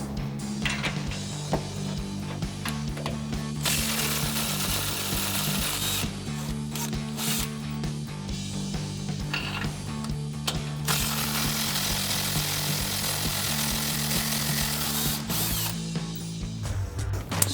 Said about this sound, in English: I'm going to take my 15 millimeter, my 3/8 gun, loosen these up